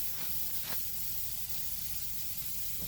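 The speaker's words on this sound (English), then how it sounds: "When you're spraying pearls, metallics, candy flakes, and stuff like that, you don't want to lay that stuff on thick." A spray gun lays pearl metallic paint onto a lawnmower with a steady, quiet hiss of atomised spray that holds constant, and a soft click cuts in partway through.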